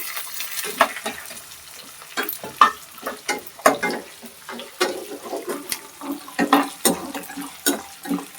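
Black pepper, cumin seeds and dried red chillies crackle and sizzle in a hot pan, with irregular popping bursts and stirring over a low background hiss; close and without talk.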